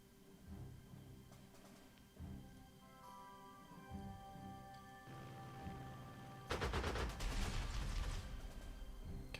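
Aircraft strafing gunfire in the strategy game Panzer Corps 2, heard as faint rattling bursts over a low rumbling game bed that swell into a louder, dense stretch of rapid fire near the end.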